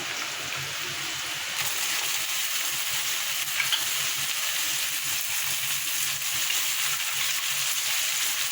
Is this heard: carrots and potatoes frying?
yes